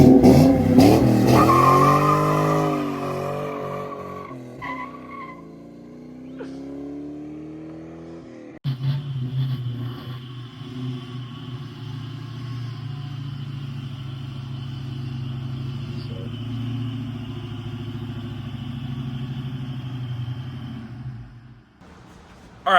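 A 2002 Ford Mustang with a 331 stroker engine revs hard several times up close, loud rising and falling engine pitch, then settles into a choppy, lumpy idle for the rest.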